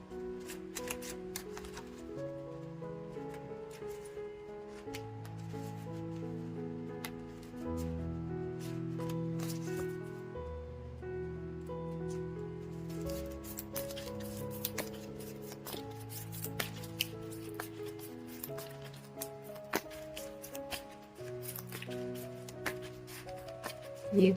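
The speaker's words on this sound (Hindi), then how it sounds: "ये हो गई 11 बार शफलिंग।" Tarot cards shuffled by hand again and again, giving soft riffling bursts and taps close by, set over a continuous layer of gentle background music.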